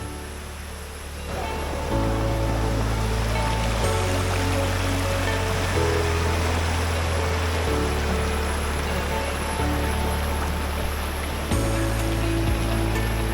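Hot spring water at Chiang Dao in the rainy season flows and splashes in a loud, continuous close-up rush that holds steady after a brief quieter start, with no talk over it.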